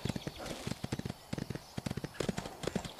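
A horse's hooves beat out a quick, rhythmic clip-clop while being ridden in the game Ostwind Remastered, close and even-paced, with a few heavier steps mixed in.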